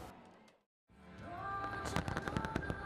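Phoenix fireworks, a large display at the Nagaoka fireworks festival in Japan, begin after a brief silence with dense, loud crackling and booming bursts that pile up into a continuous barrage.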